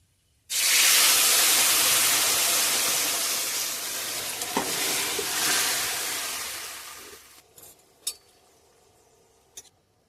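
Broth is poured into hot tempering spices of dry chillies, bay leaves and five-spice in a wok. A sudden loud, rushing hiss erupts, holds strong for several seconds, then subsides into a few sharp clinks of a utensil.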